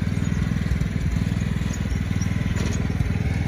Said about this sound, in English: It's my dad mowing around it right now.